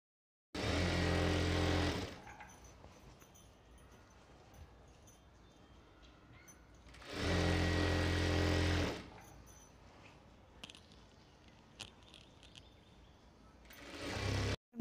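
Sewing machine stitching the side seam of a silk lehenga, heard close in two steady whirring bursts of about two seconds each, with quiet fabric handling between them and a third burst starting at the end.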